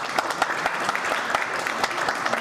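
An audience claps at an outdoor farmers' salute gathering in Dera Afzal Khan during a turban ceremony. The applause is steady, dense and fairly loud throughout, with scattered sharper claps and no clear talk.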